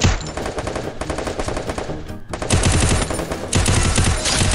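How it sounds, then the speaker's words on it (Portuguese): Loud, rapid bursts of automatic gunfire in the video game Free Fire rattle almost continuously, with a brief pause midway before firing resumes. "É um tiro"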